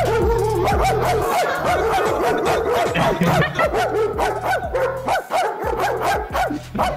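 Dog barking repeatedly in loud, rapid bursts with some yips and whimpering mixed in, close by and dominating the sound, with brief gaps between volleys.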